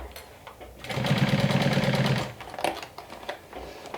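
A sewing machine stitches a fabric wine bottle bag in one steady, rapid mechanical run of about a second, with lighter clicks and handling noise before and after it.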